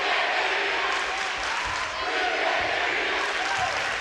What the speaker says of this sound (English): Nashua South and North crowds here, very vocal